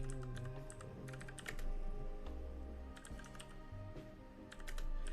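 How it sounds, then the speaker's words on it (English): Rapid, irregular keystrokes on a computer keyboard clatter in bursts close by over a low steady hum, with no one speaking. "I have probably completely misspelled everything because I'm typing over shit."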